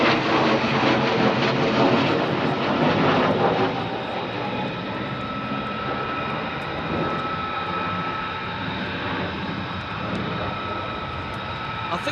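A lone F-15 jet passes overhead near RAF Lakenheath, a loud broad roar that eases slightly after a few seconds and then holds as a steady rumbling drone, with faint voices underneath.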